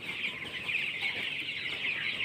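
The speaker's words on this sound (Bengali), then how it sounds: "কয়েকটা ব্রয়লার মুরগি রাখছি" A small flock of ten to fifteen broiler chickens, about two months old, clucking steadily and close by in a continuous chorus of overlapping clucks with no pauses.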